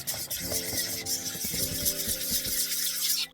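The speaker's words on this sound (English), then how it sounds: "Whisk together." Olive oil and other ingredients are whisked together in a bowl. Quick rhythmic scraping strokes sound close and fairly loud for about three seconds, then stop abruptly.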